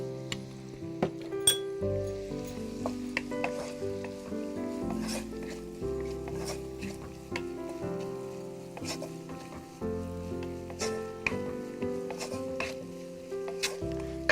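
Onions with a little salt frying in a pan for chicken fried rice, a steady sizzle running throughout with light clinks and stirring sounds over it, close and moderately loud.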